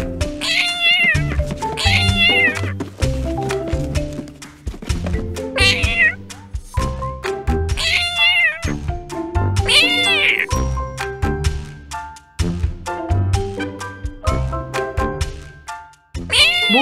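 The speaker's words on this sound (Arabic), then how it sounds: "ده في قطة شكلها حلوة قوي هناك" A cat in a pet shop playing on its cat tower meows repeatedly in loud, drawn-out calls, some verging on caterwauling, over steady background music.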